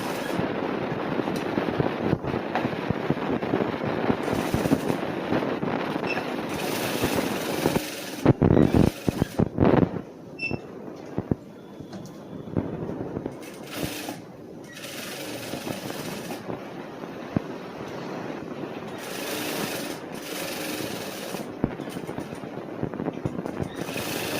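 A sewing machine stitches the lining of a cross-cut blouse front in loud, close bursts of rapid mechanical whirring, broken by short pauses and quieter handling between runs.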